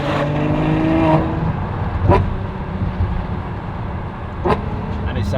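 A car engine with a catless straight-pipe exhaust rumbles and revs with a throaty, unmuffled tone, with a couple of sharp downshift bursts standing out over the steady drone; voices are faintly present.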